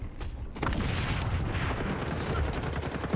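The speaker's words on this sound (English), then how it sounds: "Grenades away." Grenade blasts in the shooter game XDefiant, a loud, dense booming burst that starts sharply about half a second in and keeps rumbling heavily to the end, with a final hit at the close.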